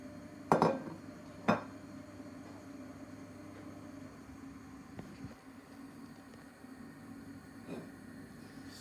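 A plate is lifted out in a home kitchen while pancakes cook, giving two sharp ceramic clinks close together near the start, then only a low, steady kitchen hum.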